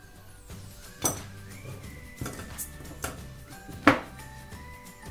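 Wire cutters snipping excess component leads after soldering a circuit board: four sharp, bright clicks spaced about a second apart over a quiet background.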